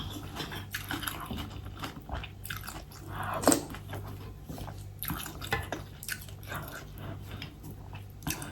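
Eating tom yum instant noodles with egg and tender pork, close soft chewing and wet slurping sounds with one louder slurp midway, quiet and intimate.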